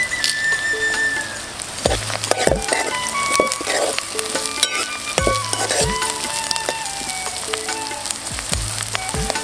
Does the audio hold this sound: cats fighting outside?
no